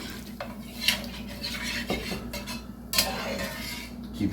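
A spoon scrapes and clinks around a pan of milk gravy thickening over the fire for biscuits, steady rhythmic stirring with a few louder metallic knocks against the pan, close and alone.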